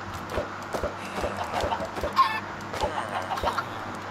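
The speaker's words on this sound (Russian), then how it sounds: "сколько куриц-то у нас тут теперь" Chickens in the Minecraft video game cluck in short repeated bursts, fairly close and moderately loud, with no talking heard.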